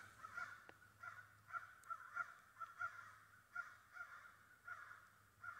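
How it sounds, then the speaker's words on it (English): Crows caw from trees along a hiking trail, a flock of birds calling in repeated harsh bursts with an uneven, almost rhythmic pattern, moderately distant over a low steady background hum. "several of them just flew through here and landed on a tree up there, and ever since then they've been squawking and singing"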